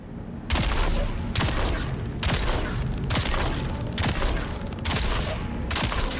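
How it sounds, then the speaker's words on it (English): Regis Snubnose pistol fire in the video game Dune Awakening comes as seven evenly spaced, loud, sharp shots, each ringing into the next, with no talking. "shooting 7 bullets from the Regis Snubnose"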